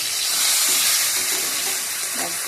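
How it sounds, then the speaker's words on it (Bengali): Fish heads frying crisp in hot oil, a dense, steady close sizzle and hiss filling the short stretch, with no talk. "মাছের মাথাগুলোকে দেখো ঠিক এরকমভাবে একটু লাল লাল করে কড়া করে ভেজে নিচ্ছি।"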